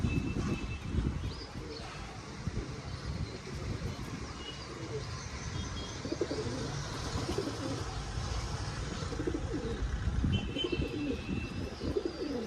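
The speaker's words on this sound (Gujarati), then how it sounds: "બધા કબૂતરા ખાઈ ગયા" Several pigeons coo softly and repeatedly amid a busy background of rustling and fluttering; faint ambient noise throughout.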